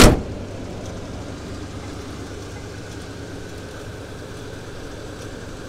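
A 1974 Mercury Marquis Brougham hardtop with a 460 four-barrel V8 runs at a steady, low idle after a brief thump at the start, a constant rumble heard up close.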